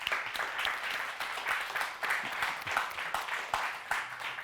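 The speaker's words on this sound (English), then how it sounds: "Well, first let's big round of applause." Applause from a lecture audience welcoming a guest speaker, a steady, fairly soft wash of many hands clapping with slight rhythmic swells, heard alone for several seconds.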